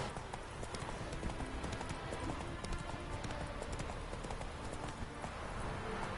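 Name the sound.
horse hooves clip-clopping in a video game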